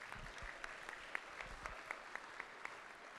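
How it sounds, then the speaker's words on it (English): Applause for silver medal winners at a miniature painting competition, a thin, fairly quiet patter of clapping with a few sharper individual claps standing out, no talk over it. "Round of applause, silver medals here."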